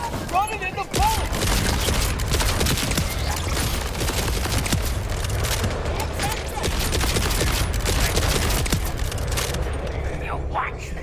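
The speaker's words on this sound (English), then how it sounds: "Running into bullets!" Dense, sustained gunfire fills a Borderlands 4 firefight, rapid shots and bursts running almost continuously at close range, with a few louder booms and someone talking over the shooting.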